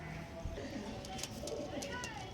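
Pigeons offered for sale, with Star Kalanka and Aparajita breeds among them, give brief soft coos under nearby human voices in a short, faint stretch.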